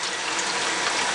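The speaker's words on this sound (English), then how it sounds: "rinse your brush out. Squeegee it, squeeze the water out" Water running and splashing as a makeup brush is rinsed and squeezed out under a tap, a steady close hiss of flowing water for about a second.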